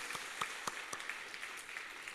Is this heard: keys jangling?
no